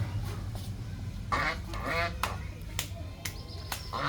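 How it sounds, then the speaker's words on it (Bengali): Domestic ducks heading home for the evening in a rural household yard, giving several brief quacks that mix with voices talking close by. "এই যে আমার বড় আম্মুর হাঁস এখন ঘরে উঠবে।"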